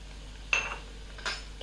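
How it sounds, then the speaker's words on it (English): A spoon stirs powdered coriander, chili and haldi masala in a curry pan for a prawn mango curry, giving two short, fairly quiet metallic scrapes and clinks about a second apart. "Give that a quick stir."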